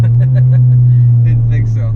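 The engine of a modified Saab 9-3 2.0 Turbo holds a steady, loud drone from inside the car while driving, with people talking over it.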